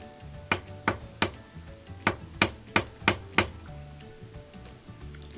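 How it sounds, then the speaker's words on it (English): A small appliance hammer taps a washer motor coupler in two bursts of sharp metallic knocks, three then six, close and crisp over a quiet background. "These are little appliance hammers that I keep in my toolkit."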